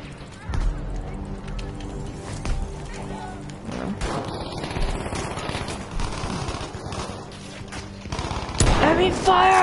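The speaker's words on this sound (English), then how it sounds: "Enemy fire coming down from the hall." Enemy gunfire in a shooter video game crackles in repeated volleys and scattered shots at moderate loudness, with voices talking over the exchange.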